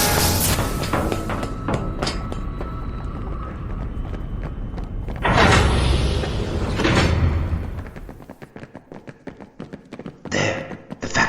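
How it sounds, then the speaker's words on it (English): A heavy sci-fi airlock door grinds and booms open with a loud, sustained mechanical rush, followed by a series of sharp clanks and taps fading out. "When the airlock opens, we're through that loading door and down the hallway."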